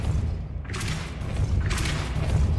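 A Depulso spell is cast in Hogwarts Legacy, with two forceful whooshing bursts about a second apart over a low, rumbling game backdrop.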